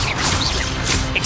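A fire spell cast in the video game Hogwarts Legacy, a dense, roaring rush of noise that swells and surges across about a second, with sharp whooshing bursts near the start and toward the end.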